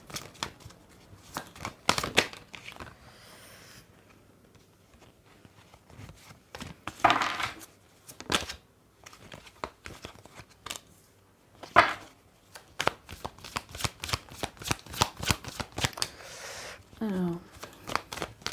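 Oracle cards being shuffled for a reading, repeated close rapid riffling bursts with pauses between, and someone speaking briefly in between.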